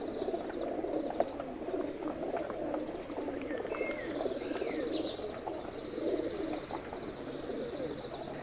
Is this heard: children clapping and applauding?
no